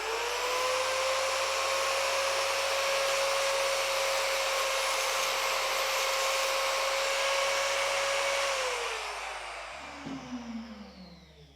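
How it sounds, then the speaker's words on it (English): A tungsten grinder whines steadily at high pitch as the end of a tungsten electrode is dressed on its grinding disc, a loud close motor tone that drops in pitch and winds down near the end. "this is going to bring it down onto the end of the grinding disc to dress the end"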